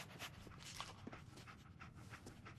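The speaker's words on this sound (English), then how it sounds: "Dog meat. Get the scent, boy." Dog panting in the Fallout 4 video game, rapid, breathy, rhythmic huffs that stay quiet and close throughout.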